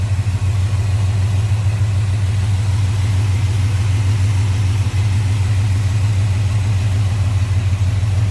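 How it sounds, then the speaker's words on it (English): A 1968 Chevrolet C10 pickup with a 350 V8 and headers idles close by, a loud, steady, deep rumble with an even throb and no revving. "Smooth running, good sounding engine."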